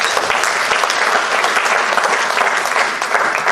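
A congregation at a prayer vigil breaks into loud, sustained applause, a continuous dense clatter of many hands clapping nearby.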